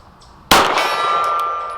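A 9mm 115-grain bullet from an HK USP Expert strikes a silver steel gong at 50 yards: a single sharp metallic clang that rings on with a sustained, slowly fading tone.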